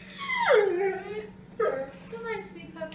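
A puppy whimpers in high, drawn-out whines that slide downward, a couple of separate cries heard close, with soft sounds in between.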